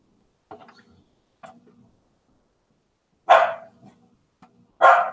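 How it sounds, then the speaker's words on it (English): Dogs bark in a few sharp bursts, a couple of small yips followed by two louder barks close by, with quiet gaps between. "And my dogs are going to go nuts."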